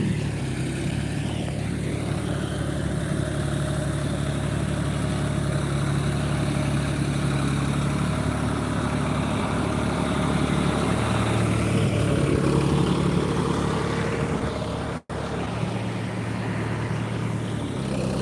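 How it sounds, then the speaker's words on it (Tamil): A steady, loud tractor engine drone with a low rumbling hum runs throughout in a rice paddy field, slightly swelling as it draws near, with a brief dropout near the end. "பாருங்க டிராக்டர் எவ்வளோ பக்கத்தில் வருது காட்டுறேன்"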